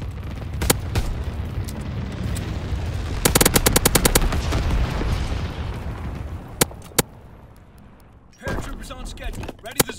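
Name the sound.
incendiary bombing run in Call of Duty video game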